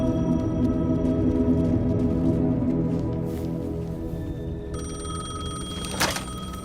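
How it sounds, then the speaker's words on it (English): A payphone rings in the Alan Wake 2 video game, a sustained, continuous bell tone that carries on alone and ends with a sharp click near the end. "Payphone was ringing."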